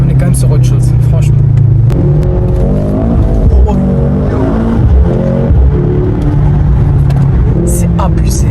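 A Mercedes C63 S E Performance accelerates hard with its wheels spinning, the engine roaring and rising in pitch with brief tyre chirps, while people talk excitedly over the noise.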